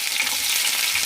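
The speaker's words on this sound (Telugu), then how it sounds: "ఆయిల్ బాగా హీట్ అయింది. సో నేను ఇప్పుడు ఇందులో సాజీరా వేసుకుంటున్నాను." Whole spices sizzling in hot oil for a tempering for Hyderabadi bagara rice, a steady, close, bright crackling hiss with no talk over it.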